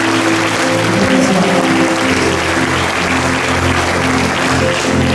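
Loud, sustained applause from a church conference audience fills a large hall, dense clapping holding steady throughout with a low musical drone underneath.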